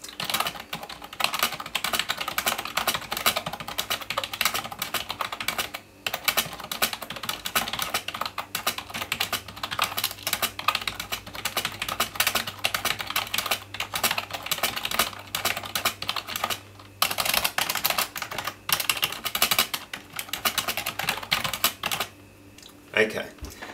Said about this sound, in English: now we'll compare it to a Microsoft rubber dome keyboard